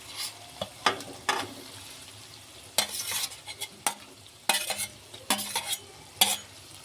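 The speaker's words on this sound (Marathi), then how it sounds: "तर आपण अंडे त्याच्यामध्ये हलवून घेऊ" Chopped boiled eggs being stirred into sizzling egg masala on a tawa, with a steady frying hiss broken by repeated sharp scrapes and clinks of a spoon against the pan, close and alone.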